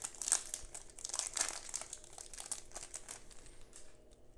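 Foil wrappers of 2020 Bowman Chrome baseball card packs crinkling and tearing as they are opened, close and quiet, in busy bursts that fade toward the end.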